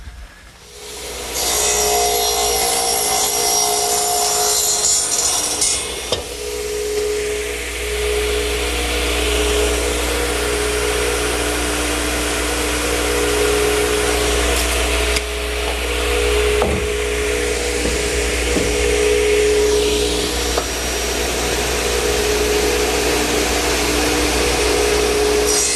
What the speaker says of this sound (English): to the radial arm setup, I want to cut 3 pieces of 2x4